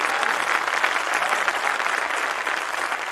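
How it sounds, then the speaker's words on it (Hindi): Sustained applause from a crowd at a Hindi comic poetry recital, a dense, even wash of many hands clapping at steady loudness throughout. "तालियां कमजोर थी आप लोगों की।"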